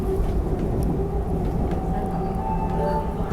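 A RapidX RRTS regional train accelerating away from a station platform, a loud, steady low rumble with a rising whine throughout, close by and without voices.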